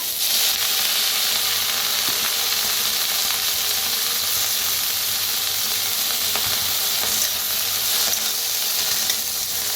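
Mixed vegetables roasting in a pan over a wood-fired stove give a loud, constant sizzle and hiss, with faint stirring scrapes now and then, close and without speech.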